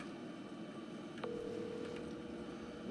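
Telephone call tone, faint and distant, heard as a single sustained electronic tone that starts partway through and holds steady under low background noise.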